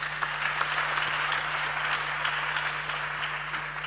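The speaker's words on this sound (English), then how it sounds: "Let's clap for him." Steady audience applause fills a youth dialogue session in Ghana, dense and continuous from start to finish with a faint low electrical hum underneath and no talking.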